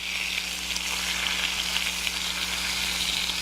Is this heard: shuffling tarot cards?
no